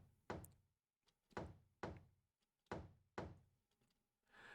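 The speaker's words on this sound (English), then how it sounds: "Someone knocking?" Four heavy, evenly spaced knocks thud on a door in a Higurashi visual novel, each a dull wooden blow with a short decay, followed by a faint rustle.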